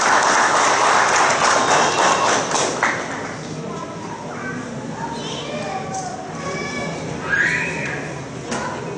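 Applause breaks out at a formal ceremony, a dense, fairly faint patter of clapping that rises and falls while voices and a few thumps carry over it.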